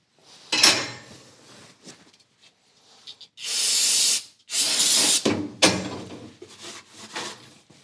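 Brake cleaner sprays onto greasy engine valve parts during a Lamborghini valve job, in several loud sustained hissing bursts of one to two seconds each, broken up by clinks of metal parts and handling noises.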